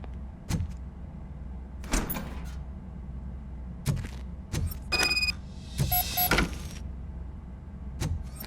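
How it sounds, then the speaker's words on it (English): In Robocop: Rogue City, a door is worked open with a series of sharp mechanical clunks and clicks spaced unevenly, followed by a brief whirring slide, all heard close over a low ambient hum. "Now let me get that door open for you."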